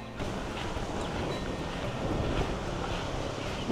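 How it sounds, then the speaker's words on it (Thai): Strong wind buffets the microphone at a tent campground on Route 3060 in Wang Nam Khiao, Thailand, a steady loud roar with rushing gusts and no talking. "ลมแบบแรงจริงๆที่นี่ลมดีทั้งวัน"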